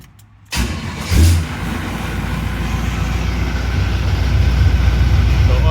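A 1935 Chevy Master Deluxe cranks briefly and fires, then settles into a loud, steady idle nearby that continues to the end with a slight rise in level.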